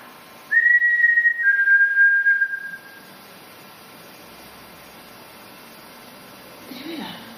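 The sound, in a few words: person whistling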